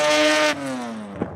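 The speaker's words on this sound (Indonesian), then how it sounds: "Suaranya yang melengking halus dan respon gas yang cepat seringkali dianggap sebagai jiwa dari mobil rotari itu sendiri" A Mazda-style rotary engine revs hard, a loud buzzing wail that holds high, then drops and winds down as the throttle closes.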